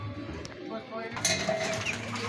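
Racing pigeons at feeding time coo softly with faint scattered rustles and clinks, heard close over a low background murmur.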